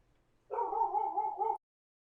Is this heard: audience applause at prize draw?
no